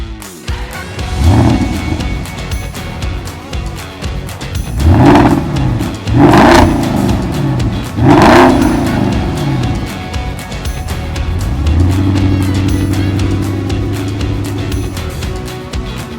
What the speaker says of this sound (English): We'll be able to get lots of nice shots of the car going past